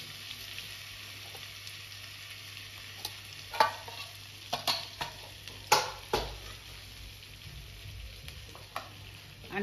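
Turmeric, asafoetida and cumin frying in oil on low heat, a soft steady sizzle with scattered scraping and stirring clicks from a spoon in the pan, several sharper knocks in the middle.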